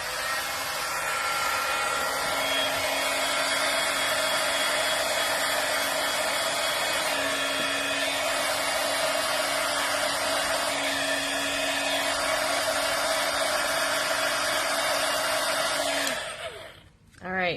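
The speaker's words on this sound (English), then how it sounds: "Hopefully when I start the heat gun it won't be too noisy." Heat gun running steadily at close range for about sixteen seconds, a loud continuous blowing whoosh with a faint tonal whine, used to dry ink on stamped paper for a pepper stamp technique, before cutting off abruptly near the end.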